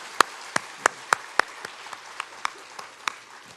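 A church congregation claps in a slow, regular rhythm, roughly a dozen crisp beats at a steady tempo, loud at first and then fading softer, in a quiet room.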